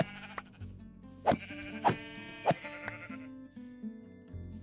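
Three short, distinct bleats from white sheep in a Minecraft-style survival game, set over soft background music, each cry fairly loud and evenly spaced.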